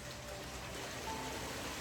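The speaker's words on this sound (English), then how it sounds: "Oh no, it's a downpour." Heavy rain downpour, a soft continuous patter and hiss of falling water, fairly faint and steady throughout.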